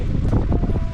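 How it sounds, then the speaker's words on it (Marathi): Wind blowing outdoors under gathering clouds before a storm, a steady loud rushing roar with gusty buffeting against the microphone throughout. "वारा सुटला आहे"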